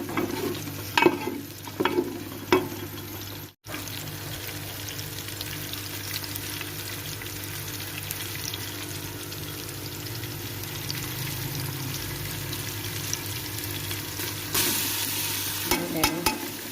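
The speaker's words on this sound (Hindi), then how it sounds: "तकरीबन 3 बड़े चम्मच जो है ना लहसुन और अदरक के वो डालने हैं। इनको अच्छी तरह से भून देना है।" Garlic and ginger paste for kadhi pakora sizzles and fries steadily in a pan, with a few stirring clatters and scrapes near the start. No voices.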